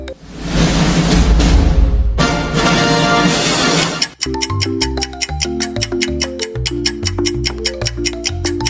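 A brassy orchestral fanfare for the Twentieth Century Fox logo plays loud and sustained, with a rising opening section followed by rhythmic, punctuated brass and percussion hits toward the end.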